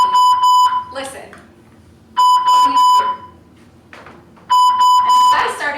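An alarm beeps in three loud bursts of a steady high tone, each about a second long, with pauses between them and speech in the gaps.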